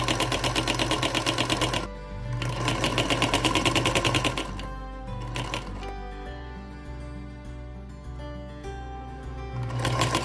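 Sewing machine with a ruffler foot attachment runs steadily while gathering fabric, a fast, even mechanical chatter with a low motor hum that briefly pauses and slows before resuming.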